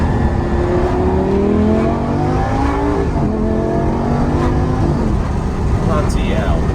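A sports car engine revs hard up close, its roar climbing in pitch through a couple of loud, sustained pulls.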